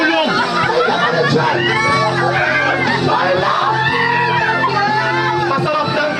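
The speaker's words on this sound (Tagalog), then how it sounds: "Grabe yung hiyawan guys ng mga tao po na yan" A large crowd of people screaming and cheering, a dense continuous roar of many voices with shrill cries rising above it, loud and close, with someone talking over the noise.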